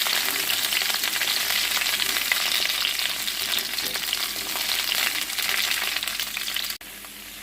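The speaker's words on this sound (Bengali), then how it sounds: "পটলগুলোকে একটু ভালো করে ভেজে নিতে হবে, বেশ লালচে করে ভেজে নিতে হবে।" Pointed gourd (potol) frying in hot oil, a dense, loud, unbroken sizzle with light stirring that drops off abruptly near the end.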